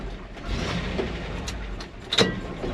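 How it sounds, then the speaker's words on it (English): A 1960s gasoline dump truck engine runs steadily in the cab during a shift from second to third gear, with a continuous low drone and brief clunks and squeaks from the gearbox. "We are in second, let's go to third."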